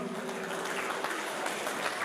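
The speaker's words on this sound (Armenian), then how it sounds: "շատ բարձր ծափահարություններ" An audience applauds at a celebratory Armenian family event, a dense, continuous patter of clapping hands that holds steady at moderate loudness throughout.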